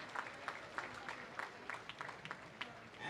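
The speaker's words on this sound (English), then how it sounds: "let's give these finalists another round of applause" Applause from a small crowd at a junior girls' bowling championship, scattered claps rising and falling at moderate distance with no voices over them.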